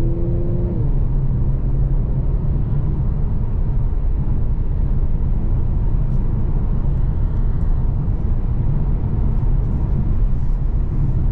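A 2022 Infiniti Q60 Luxe AWD car heard from inside the cabin as it accelerates, a loud, steady low engine and road rumble filling the whole stretch with no talk over it.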